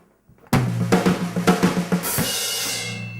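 A drum kit plays a quick single-stroke roll fill around the toms and snare that runs onto the hi-hat and a loud crash cymbal, which then washes and decays, with no voices.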